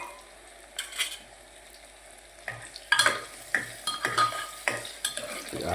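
Sweet potato pieces for a Gujarati curry sizzle softly in a pan with tempered spices while a spoon stirs and scrapes, the scraping growing busier and louder toward the end.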